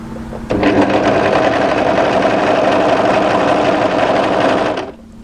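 An overlocker runs in one continuous burst of about four seconds, stitching a seam on a draped midi-length dress, with a fast, even buzzing whir that starts and stops abruptly.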